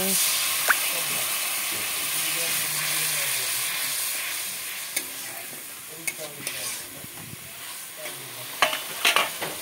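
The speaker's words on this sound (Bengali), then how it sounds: "সব মশলা একসাথে দিয়ে মশলাটাকে একটু ভেজে নেওয়া হলো" Spices frying together in a pan for a cauliflower and potato dish, a steady sizzle and hiss with scattered clinks and scrapes of stirring, close and fairly loud; faint voices murmur in the background.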